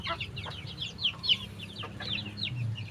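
A flock of sixteen chickens clucks and chatters just after release from their coop, several overlapping close calls in quick, irregular bursts.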